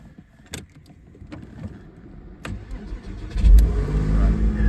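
A Porsche Boxster 986 with a sluggish start fault has its key inserted with a few clicks, then the engine cranks and catches, settling into a rising, steady idle nearby.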